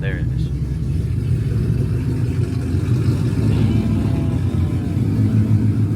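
Deep, steady rumble of a car engine at a street car takeover drag and roll racing event, loud and close throughout, with a voice speaking briefly at the start.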